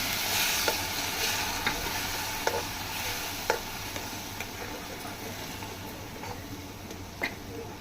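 Tomato puree hisses and sizzles in a hot pan for tadka cooking, with a steady close fry and sharp clicks of a spoon stirring at irregular intervals.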